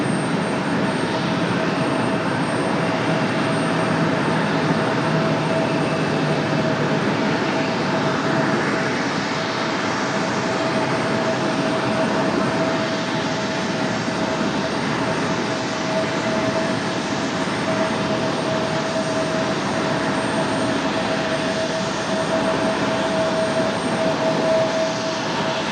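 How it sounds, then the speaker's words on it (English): A CRJ regional jet coming in to land at Raleigh-Durham airport produces a steady, broad engine roar with a faint whine, sustained and unchanging for about 25 seconds, with no voices. "Got a close-up of a CRJ coming in."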